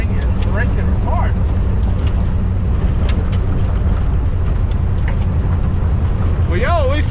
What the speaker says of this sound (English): this engine has got some power now